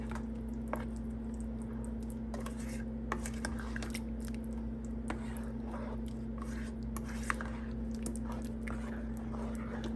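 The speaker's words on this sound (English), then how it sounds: "So I'm gonna stir all of this up." Homemade spaghetti sauce with chunky vegetables and sugar stirred in a cooking pot, with scattered scraping and clinking of the spoon over a constant low hum.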